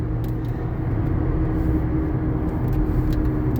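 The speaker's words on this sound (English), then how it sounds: "It sounds like it's got a bad hub bearing on the left front too." Car on the road with a bad front hub bearing and tire noise, a loud constant low rumble and drone from inside the cabin that holds steady throughout.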